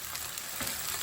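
Chicken pieces sear in a hot wok with Sichuan peppercorns, giving a steady, close hiss of oil sizzling without a break.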